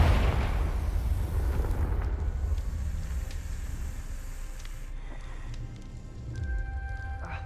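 Confringo fire spell exploding in the video game Hogwarts Legacy, a loud deep burst at the start that rolls off into a long crackling, rumbling decay with faint magical ringing tones.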